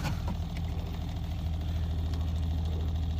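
A camper's freshly installed water pump, repaired with a condom, is switched on and runs with a steady, loud, low motor hum and vibration throughout.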